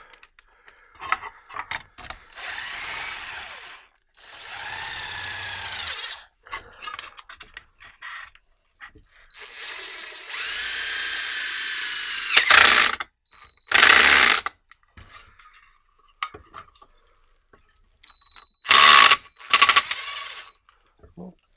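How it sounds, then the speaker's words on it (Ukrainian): A DEWALT DWHJHLD impact clutch bit holder on an impact driver drives a screw into a metal profile and slips. Several sustained rattling, hammering whirs come first, then a few short, loud, sharp bursts, with quiet gaps between them. "прокрутило, але муфта дає можливість зловити цей момент до прокручування шурупа в профілі"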